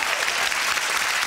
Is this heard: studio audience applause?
yes